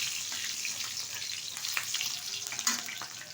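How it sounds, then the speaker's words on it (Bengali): Green chillies and black cumin fry in oil with a continuous bright crackling sizzle, scattered small pops and a few faint stirring scrapes throughout, close and steady with no talking. "হালকাভাবে ভেজে নিচ্ছি।"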